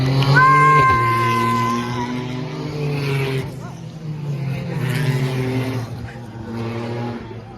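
Race cars in a legends race at the GP Explorer event roar past near the track, loud engine tones rising and falling as they pass, with spectators talking over the noise.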